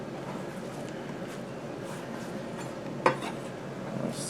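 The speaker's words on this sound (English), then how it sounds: "And then we're going to just toss all this cabbage and radish into our dressing, like so." Shredded cabbage and radish tossed through dressing for an Asian-inspired slaw, giving a steady soft rustle and scrape against a bowl, with one sharper clink of a utensil near the end.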